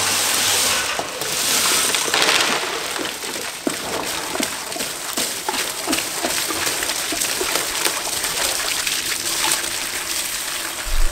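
Liquid draining from a rusty 1986 Range Rover fuel tank into a container, a continuous close trickling and splattering hiss with small irregular splashes throughout, no voices.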